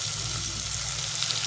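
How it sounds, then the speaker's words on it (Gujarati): Potato mix sabzi cooking in a pan, a brief steady hiss of frying at close range with no clear stirring strokes. "ખાવાના સારી રીતે પાકવા દઈશું 5 મિનિટ હલાઈને"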